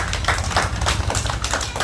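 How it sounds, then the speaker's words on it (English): Fifth-grade children in a classroom clap loudly and close by for a classmate, a quick run of several sharp, rhythmic claps with no talking over them. "Clap to her."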